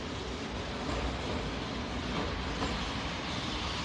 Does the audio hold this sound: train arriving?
yes